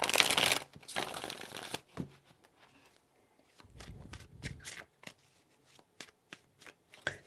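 Tarot cards are shuffled by hand in close, crisp riffling bursts, one long burst at the start followed by shorter scattered shuffles and taps, with faint room noise between.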